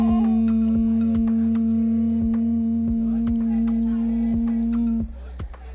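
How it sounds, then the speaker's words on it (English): A soft, steady hum on one sustained low note soothes a newborn baby for several seconds, with regular light clicks ticking along underneath before the hum stops. "soothing technique, just humming"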